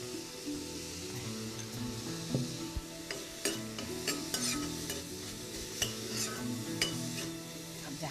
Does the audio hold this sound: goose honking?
no